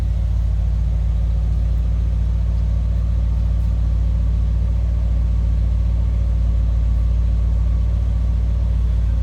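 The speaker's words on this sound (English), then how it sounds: "that was a 330 Hemi underneath the hood we just fired up" A 1956 DeSoto Firedome convertible's 330 Hemi V8 idles steadily, a loud, close, smooth low rumble holding constant throughout with no talk.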